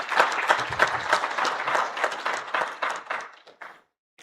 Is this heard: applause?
yes